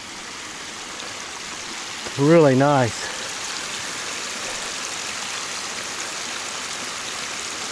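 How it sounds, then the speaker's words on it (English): Creek waterfall cascading beside a muddy hiking trail on Smith Creek, a steady close rush of falling water throughout, with someone speaking briefly over it near the start. "A waterfall, or cascade if you will."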